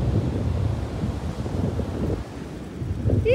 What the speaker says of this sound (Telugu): ఫుల్ గాలి గాలి.